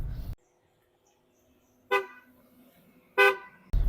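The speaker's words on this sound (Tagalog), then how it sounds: "Busina naman," A Kia Sonet LX car horn gives two short, clear honks about a second apart, close by, with a brief low rumble before and after.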